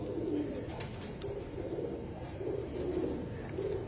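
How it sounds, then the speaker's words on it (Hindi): Pigeons coo continuously in a loft, several birds overlapping in soft rolling phrases, close and steady with no talking. "ये जो कबूतर इस टाइम भाई के हाथ में है"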